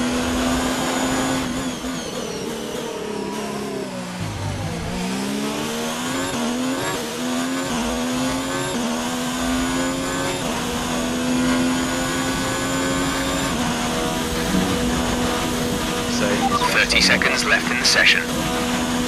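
A Ferrari Formula 1 car in the F1 2019 game on a hot lap at Spa, its engine a loud, continuous high-revving whine that dips briefly under braking, then climbs steadily through the gears.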